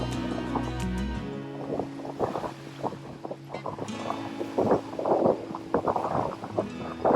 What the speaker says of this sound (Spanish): Está muy fuerte el viento, muy fuerte.